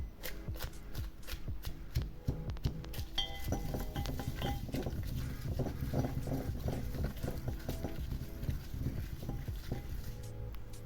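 Fried chillies and curry leaves pounded in a mortar for a Batticaloa-style chilli masala cassava fry, a steady run of close, dull thuds and knocks with faint clinks, going on throughout without talk.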